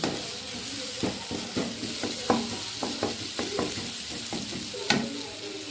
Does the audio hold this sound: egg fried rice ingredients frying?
yes